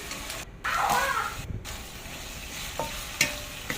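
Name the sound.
stirring eggplant in a pan with light soy sauce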